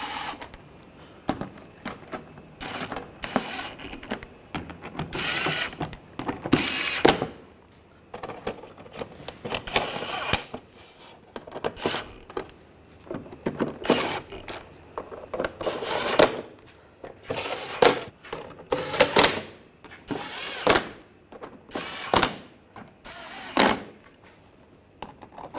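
Bolts on the transmission oil pan of a 2006-2010 BMW 550i with a 4.8L V8 are run down with a ratcheting tool, giving repeated bursts of close, quick metallic clicking with short pauses between each bolt.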